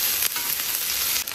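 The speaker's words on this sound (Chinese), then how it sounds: "这一锅给他煎狠一点更好吃" Mixed seafood, including crab, sizzles hard in a hot pan, a steady loud crackling hiss that runs without a break.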